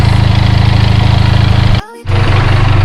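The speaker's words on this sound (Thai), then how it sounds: "โอเคนี่ก็ปล่อยเครื่องยนต์มันรันประมาณ15้าทีนะครับ" Loud, close idling of a TNT300 motorcycle engine during an oil change, with an even, throbbing putter that drops out briefly near the end before it resumes.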